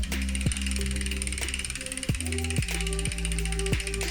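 A Bafang BBSHD mid-drive motor on a single-speed e-bike conversion runs at level 1 assist. It gives a repeated whining hum that rises in pitch several times, with mechanical clicking and ratcheting throughout.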